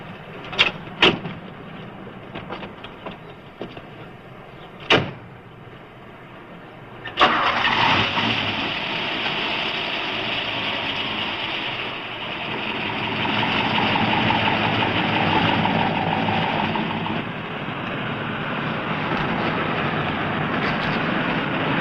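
A car engine cranks and starts after a few sharp clicks and thumps, then settles into a steady idle that runs loud and close for the rest of the stretch.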